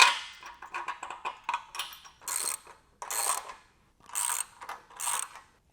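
Bolts being tightened on a Smith machine counterbalance pulley with a ratchet or hand tool, heard as close, rapid metallic ratcheting bursts separated by short pauses, with no talk.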